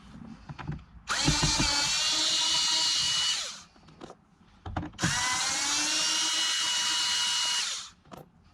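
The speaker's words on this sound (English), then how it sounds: "We're going to pop those out real quick, unscrew them, unplug them" A cordless power drill whirs twice in long sustained bursts, a few seconds each, backing screws out of old Sony marine speakers, with small clicks and handling knocks before and between the runs.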